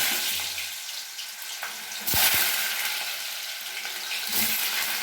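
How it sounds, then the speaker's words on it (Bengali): Potatoes frying in a generous amount of hot oil, a loud, steady hissing sizzle close by, with a brief burst and a few dull knocks midway, no speech. "গরম হয়ে গেছে, আমি আলুগুলো ভেজে নেব।"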